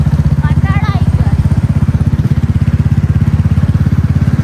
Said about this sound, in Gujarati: બોલો હવે હું બાઇક ચાલુ કર્યો